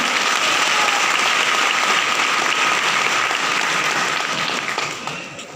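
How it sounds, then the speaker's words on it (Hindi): Audience clapping fills an event hall at a business meeting, a sustained dense wave of applause that fades slightly near the end. "एक बार अपने लिए जोरदार तालियां।"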